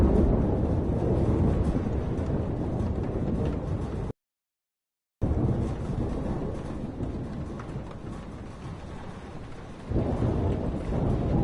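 Thunderstorm in Life is Strange: dense rain and low rolling thunder rumble steadily, break off for about a second of silence, then resume with a fresh surge near the end.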